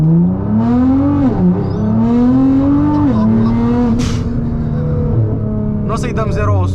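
A 750 hp Nissan GT-R pulls away from a standstill, its engine note rising and shifting through gears up close and loud, with people talking over the running car.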